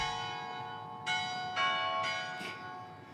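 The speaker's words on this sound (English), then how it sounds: "That classic bell to indicate that it's 6:14 a.m." A bell at a train station chimes the hour with several clear, ringing strikes spaced about half a second apart, each tone lingering and overlapping the next over a quiet background.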